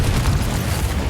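Confringo blasting spell going off in Hogwarts Legacy, a dense low rumbling boom that holds steady for about a second, loud and close with no break.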